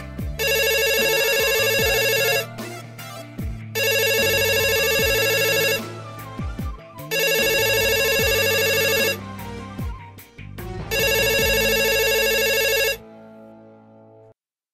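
A telephone rings in four long electronic bursts separated by short pauses, loud and close, with no talking over it, during a phone call in a Moroccan film.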